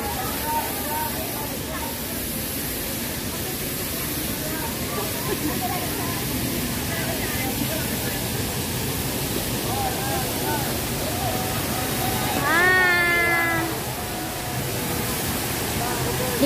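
Shifen Waterfall in New Taipei City roars as a broad, steady rush of falling water across the whole stretch, with faint voices of onlookers and a brief whistle-like tone partway through.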